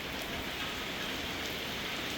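Heavy rain pours down steadily at a pond, a dense, constant hiss of drops close by, with a louder swell of rainfall at the very end.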